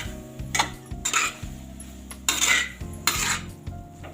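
A spoon scrapes and clinks against a pan while mixing veg cheese pasta, a series of close, irregular metallic knocks and stirring scrapes over a low hum, with no speech.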